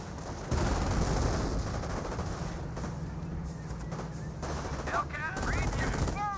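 Company of Heroes battle with bazookas and anti-tank weapons firing alongside constant small-arms and machine-gun fire, a dense continuous barrage with a commentator talking over it.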